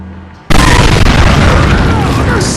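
A grenade blast in Resident Evil 4 goes off with a sudden loud boom, then a dense, roaring rumble that holds for about two seconds with no fade.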